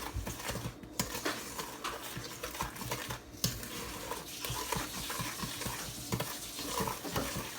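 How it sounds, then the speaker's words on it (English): Banana blondie batter with melted butter being stirred by hand in a bowl, a steady wet, squelching mix with occasional utensil scrapes, close and continuous, no voices. "here's some nasty, wet mixing ASMR"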